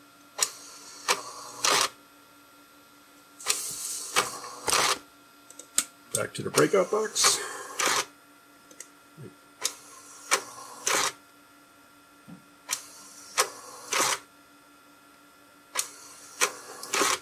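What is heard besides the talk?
IBM 5181 Compact Printer printing a graphic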